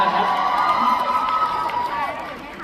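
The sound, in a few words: audience applauding Namtan at a cast event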